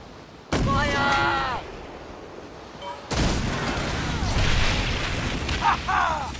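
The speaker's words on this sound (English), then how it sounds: "She's vulnerable to a broadside." Heavy ship cannon broadside in the pirate game Skull and Bones, two big booming volleys roughly three seconds apart, loud and close, each with a rolling tail and crackling debris, with voices shouting over the blasts.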